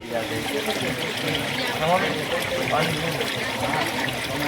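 Water trickles and splashes steadily from a stone spout at a Hanuman temple in the Gir forest, a continuous gentle flow with faint voices underneath.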